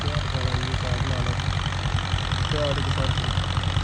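A tractor engine idles close by, giving a steady, low, even rumble throughout, with faint voices coming and going over it.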